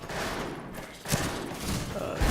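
Rapid gunfire from several players fills a Wild West shootout in the video game Fistful of Frags, a dense, continuous clatter of shots with louder bursts standing out.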